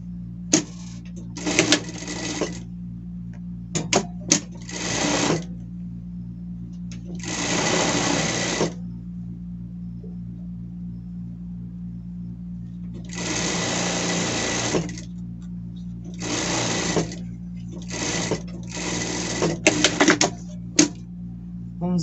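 Sewing machine running in repeated bursts while stitching a seam on a denim shirt, each run lasting one to three seconds with short pauses between, close and fairly loud over a low steady hum.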